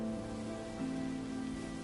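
Steady soft rain falls in Infinity Nikki, a faint even patter spread beneath sustained gentle musical tones.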